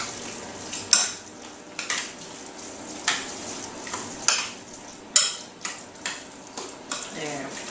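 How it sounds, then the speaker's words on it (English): A spoon stirs a creamy cauliflower mixture in a dish, making rhythmic scraping strokes and repeated clinks against the sides, close and fairly clear, with no talking. "I'll go back over and stir this up."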